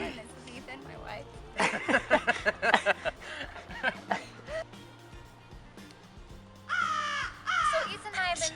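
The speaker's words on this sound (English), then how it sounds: "A crow." A crow caws in a string of harsh, rhythmic calls that come and go over several seconds, fairly close, with people talking and chuckling around them.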